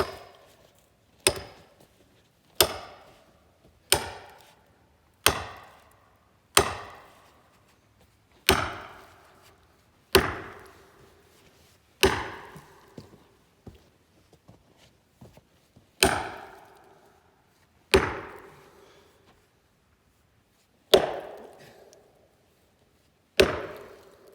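A sledgehammer strikes heavily over and over, fifteen or so sharp, ringing blows, each decaying quickly. They come at a steady pace at first, then slow with longer gaps, loud and close with no voices.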